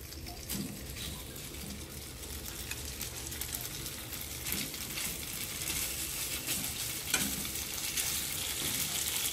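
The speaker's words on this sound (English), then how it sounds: "咁熱咗之後咧，我哋擺啲牛柳落去啦" Skewers of beef tenderloin sizzle on an oiled, heated grill pan, a steady close frying hiss with occasional louder crackles and spits, running without a break and with no talking.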